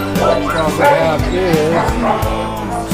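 Dogs bark and yip at an animal shelter, repeated yaps with whimpers mixed in, close and loud, while a person talks over them.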